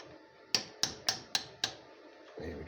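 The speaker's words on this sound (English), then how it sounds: "A little bit of persuasion with a hammer." A hammer taps an expanding bolt into place during Suzuki clutch work: five crisp, evenly spaced metallic knocks, close and fairly quiet, against a faint room background.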